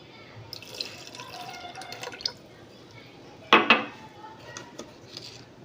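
Half a glass of water goes into thick dosa batter. Faint drips and light clinks of kitchenware lead up to a short, louder splash of pouring, followed by quieter drips.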